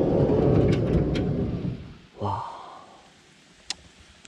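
Rain outside an RV during a storm: a loud, deep thunder rumble fills the first two seconds, then a short breathy human sound and a quieter, fading wash of rain.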